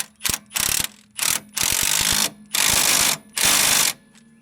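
Bursts of a power ratchet or impact driver with a T55 Torx bit tightening a nut on a Jeep Grand Cherokee control arm, six loud close rattling runs separated by short pauses.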